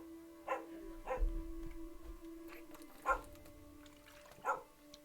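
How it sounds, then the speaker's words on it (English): The neighbor's dogs bark faintly from a distance, four or five separate barks spaced irregularly over a low steady hum, with no one talking. "Can't do anything about the neighbor's dogs"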